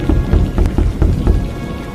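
A stormy night in a Hindi story: heavy rain pours steadily on surfaces while rolling thunder rumbles underneath, loud and close with no voices.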